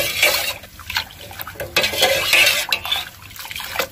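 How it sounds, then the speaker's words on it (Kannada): Cooked green gram and greens stock going into a pot of Karnataka-style soppu kalu bassaru, heard as splashing liquid mixed with clinks and scrapes of a utensil against metal, close and uneven. "ಹೆಸರು ಕಾಳು, ಸೊಪ್ಪು ಎರಡನ್ನು ಬೇಯಿಸಿದಂಥ ಕಟ್ಟನ್ನು ಹಾಕಿದ್ದೀನಿ"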